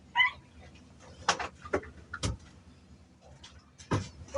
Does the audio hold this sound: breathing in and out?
no